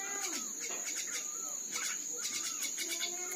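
Small birds chirp and tweet in quick, repeated bursts close by, with a steady high insect-like whine running underneath throughout.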